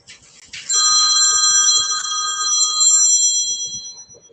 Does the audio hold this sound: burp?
no